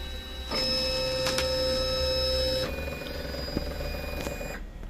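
A cutting plotter works through heat transfer vinyl, giving a steady mechanical whir with a high tonal whine and small ticks as the blade carriage moves, fairly quiet and alone.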